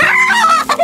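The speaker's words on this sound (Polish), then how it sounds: "Jak się łapie kurę, to ona bardzo krzyczy." A green-legged partridge hen squawks loudly when caught in a henhouse, giving one close, harsh, drawn-out cry that breaks off into a shorter squawk within a second.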